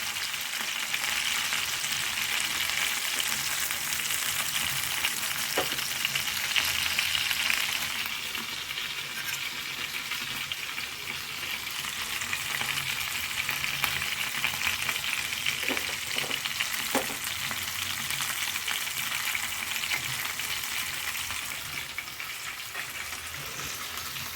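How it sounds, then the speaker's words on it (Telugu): Fish pieces frying in oil with masala, a constant dense sizzle throughout with a few faint utensil taps and stirring sounds scattered across it. "2-3 పావులు పోసుకుంటే మంచిగా వేగుతాయి."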